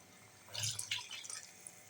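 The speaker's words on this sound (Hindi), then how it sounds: "उसी से मैं पानी ऐड करूँगी।" Water poured from a glass into a cooking pot of frying rice and peas for matar pulao, a brief soft splashing pour that rises and fades quickly, close and fairly quiet.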